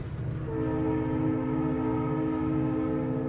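A train horn sounds long and loud, several steady tones held together for about three seconds over a low rumble of the passing train, with nothing else heard around it.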